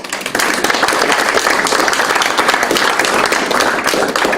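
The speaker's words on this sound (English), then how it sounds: "Take a round of applause." An audience at a company AGM breaks into applause after a chairman's presentation, a dense, sustained clapping that starts abruptly and continues evenly throughout.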